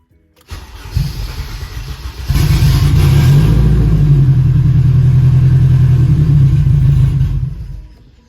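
A turbocharged K24 car engine cranks and catches, then settles into a loud, rough, uneven run close by before dying away as it stalls. The fuelling has just been raised by ten percent, leaving it running rich or lean.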